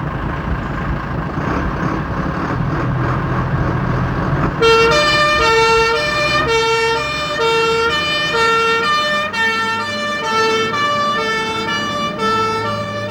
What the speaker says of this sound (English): the most commonly used fire and rescue vehicle, the pump engine